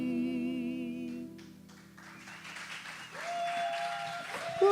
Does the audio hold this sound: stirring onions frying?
no